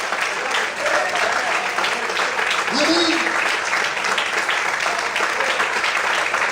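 Sustained applause from a large church congregation fills the room, with a pastor's voice briefly speaking over the clapping.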